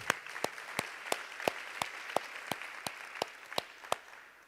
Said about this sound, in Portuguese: Vamos aplaudir a palavra do Senhor, querido.